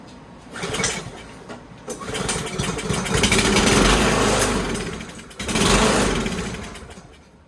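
Old free walk-behind lawn mower being pull-started after fresh fuel: the engine catches and runs with a loud rough sputtering roar for several seconds, dips briefly, then revs up again close by.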